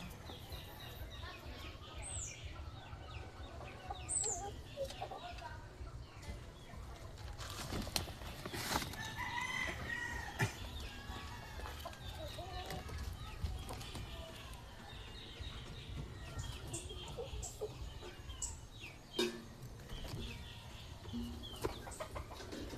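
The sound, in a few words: bulik gamefowl rooster crowing and clucking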